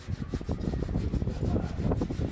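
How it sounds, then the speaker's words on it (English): Steady rasping and rubbing as a bamboo bike frame is shaped and sanded by hand, a continuous scratchy texture with quick repeated strokes and no talking. "Lots of shaping, sanding, and finishing."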